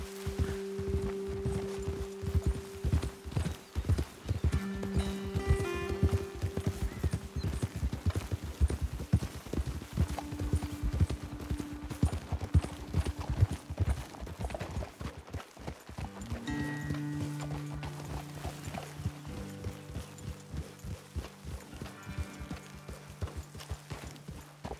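Horses in the video game Red Dead Redemption 2 walk with steady clip-clopping hooves, close and rhythmic over a long stretch, backed by an in-game music score with sustained tones and no talk.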